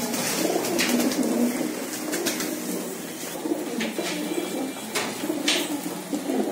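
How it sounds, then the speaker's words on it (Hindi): Border breed pigeons from Punjab cooing in a loft, a steady murmur of soft overlapping coos from many birds close by with occasional sharper clicks and movement. "ये देखो टैडियों में क्रॉस बहुत अच्छे अच्छे कबूतर बीच में।"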